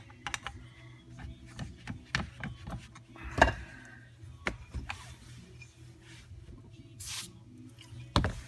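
WD-40 lubricant is sprayed onto a part during a Norton Commando 750 motorcycle restoration, heard as short close hisses and spurts scattered among sharp taps and clicks of handling in a quiet workshop.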